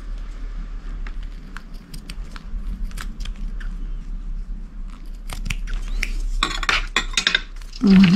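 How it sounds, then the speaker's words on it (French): Scissors snip through lace in a crafting session, a string of crisp close clicks and cuts, sparse at first then denser and louder toward the end, with a low steady hum beneath. "Là, je vais couper ma dentelle"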